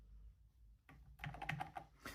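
Typing on an MCHOSE Ace 60 Pro magnetic switch mechanical keyboard, a quick close burst of crisp keystroke clicks after a quiet moment, fairly faint and alone.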